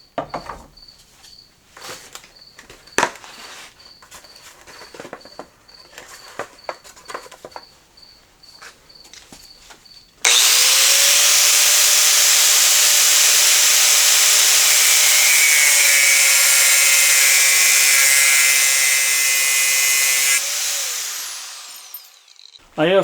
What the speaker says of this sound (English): I've got a cutoff wheel on the angle grinder here